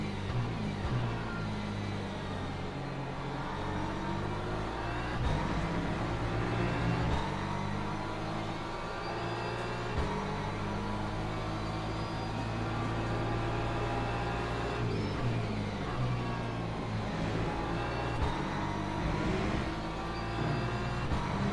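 BMW GT3 race car at Imola in the Le Mans Ultimate racing game, engine droning and shifting pitch steadily through braking and acceleration, continuous and prominent with no talk.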